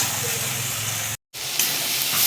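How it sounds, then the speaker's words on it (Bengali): Soybean chunks frying with spices in a pan give off a steady close sizzle and hiss, broken by a brief silent gap before the sizzling resumes. "তাই কিছুক্ষণ ধরে আমি সয়াবিনের সঙ্গে মশলাগুলোকে কষিয়ে নেব।"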